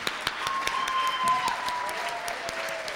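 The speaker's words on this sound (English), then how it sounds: "let's get another round of applause for everyone that actually had the courage to get up here" An audience at a 2009 evening performance event in a high school gives a round of applause, a steady wash of crowd clapping with a few sharp individual claps standing out, heard at a moderate distance.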